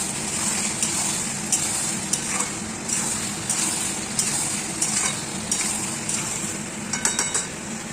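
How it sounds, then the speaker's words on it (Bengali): Chopped tomato and capsicum sizzle in a pan while a spoon stirs steadily, scraping and clinking against the metal in a repeating rhythm, close and fairly loud with no talk. "তো এরপর দিয়ে দেবো আমি টমেটো কুচিটা আর ছোট ছোট করে ক্যাপসিকাম কুচিটা দিয়ে একটু ভালো করে নাড়াচাড়া করে নেবো আমি।"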